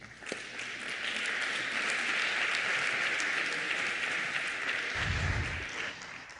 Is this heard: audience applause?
yes